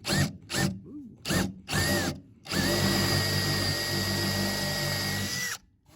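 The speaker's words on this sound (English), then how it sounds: "So you pre-drill, these are used so they're a little beat up" A power drill pre-drills holes for countertop work in a bus conversion, whirring in several short bursts and then one long sustained run, loud and close, before stopping.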